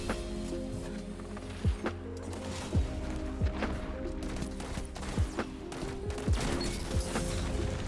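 Shotgun fire during an Iron Banner match, heard as repeated sharp percussive blasts spaced a second or so apart over continuous game music and ambient noise.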